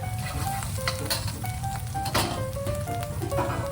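Egg scrambling and frying in a pan for fried rice gives a steady sizzle throughout, with occasional scraping and stirring clicks from the utensil against the pan.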